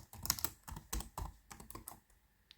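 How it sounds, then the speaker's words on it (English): Keys clacking on a computer keyboard during a web-editing session, a quick close burst of taps with short pauses and one last isolated keystroke, no voices. "let's type here Fibonacci, Fibonacci sequence."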